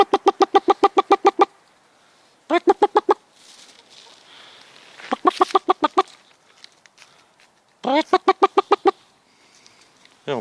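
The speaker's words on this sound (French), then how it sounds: "Les poules que l'on a lâchées dans le jardin." Hens let loose in a shared garden make loud, close bursts of rapid clucking. Four quick runs of clucks are separated by short quiet gaps, with faint rustling between them.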